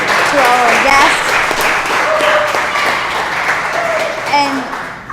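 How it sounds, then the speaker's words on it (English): Applause from a full-house audience at a live event, a dense sustained wash of clapping with voices cheering and calling out over it, loud and close, tapering off at the end. "Please give a clap to this audience, to our guests."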